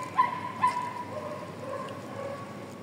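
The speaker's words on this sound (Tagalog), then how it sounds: "Grabe yung tahol ng alaga ko." A pet dog gives a couple of short yips followed by thin, drawn-out whimpering whines, heard somewhat distant in a quiet room.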